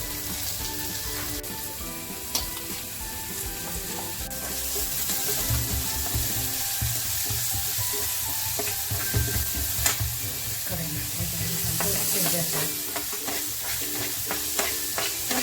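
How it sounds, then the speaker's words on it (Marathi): Chopped drumstick flowers sautéed in hot oil: a steady close sizzle with a long run of scraping, stirring strokes against the pan, dense and continuous, with no voices. "तेल तापल्यानंतर जे आहे कापलेलं ते सगळं आता त्यात टाकलं चांगलं परतून घ्यायचं"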